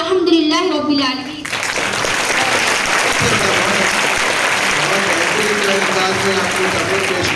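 A school audience at a 26 January Urdu primary school speech event breaks into sustained, loud applause that follows a brief spoken voice and carries on evenly to the end.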